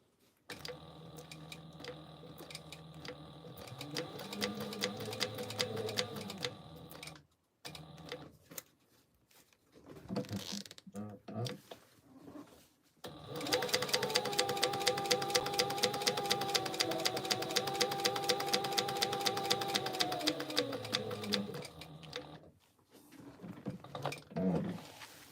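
A sewing machine top stitches a tote bag in quick, even mechanical bursts, running steadily with short pauses between runs.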